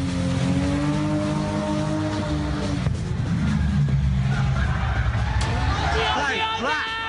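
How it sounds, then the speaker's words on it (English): A car doing a burnout on a city-centre street outside a hotel, its engine roaring loudly and steadily, then revving in rising sweeps near the end, with crowd noise around it. "Watch as this car does a burnout just outside a CBD hotel"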